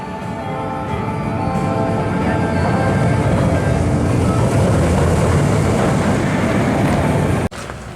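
The Gold Rush roller coaster at Drayton Manor climbing its lift hill on a December evening, with a loud, steady mechanical rumble and clatter that runs continuously close by before cutting off sharply near the end.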